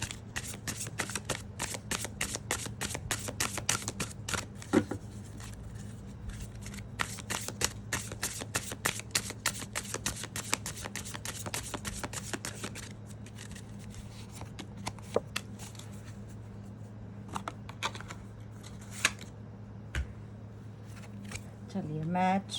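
Slippery playing cards handled and riffled by hand, dense flurries of quick papery flicks and snaps in bursts, close and crisp, with a few pauses between shuffles.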